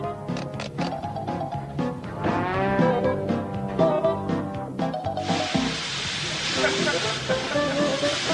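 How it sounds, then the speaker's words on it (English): Speech and other sounds at first, then a steam cabinet hisses in a steady, bright, continuous rush that fills the last few seconds. "a good way is in the steam cabinet"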